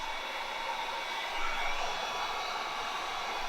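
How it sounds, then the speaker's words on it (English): A heat gun blows steadily to dry airbrushed paint on a soft plastic swimbait, a constant broadband hiss at even, moderate loudness with no talking. "to speed up the drying or curing process, he's using a heat gun"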